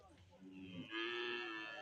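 A young calf at a cattle market moos with a loud, drawn-out bellow that swells midway and holds steady to the end, close by over faint background murmur.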